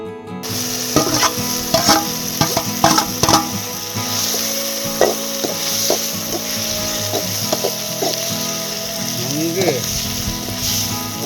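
Chopped tomatoes sizzle steadily in a hot pan while a utensil scrapes and clatters against it in irregular strokes, fairly close and loud.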